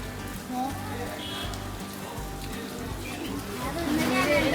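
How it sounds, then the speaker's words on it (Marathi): Light rain patters steadily on a surface, with a few faint voices and background noises mixed in. "बारीक बारीक पाऊस हा चालूच आहे"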